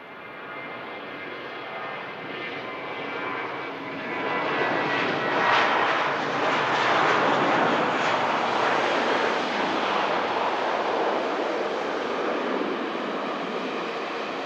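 A Finnair airliner departs Manchester Airport after taking an intersection, bound for Helsinki; a loud, steady jet roar builds after a few seconds and holds as the aircraft accelerates away, with no talk.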